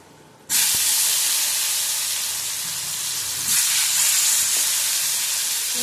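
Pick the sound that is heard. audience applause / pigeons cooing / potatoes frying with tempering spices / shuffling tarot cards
potatoes frying with tempering spices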